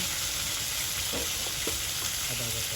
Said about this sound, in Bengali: মাছের জন্য আলুগুলো খুব সুন্দরভাবে কষে নিব।